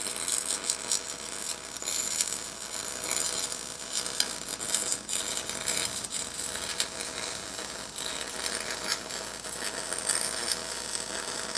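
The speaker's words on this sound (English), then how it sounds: "Put a full weld in there now." Steel shop crane joint being welded, a steady broadband crackle and sizzle of the arc running continuously and fairly close, with no talk over it.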